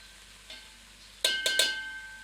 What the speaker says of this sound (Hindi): अब हमें पत्ता गोभी को पकाना है।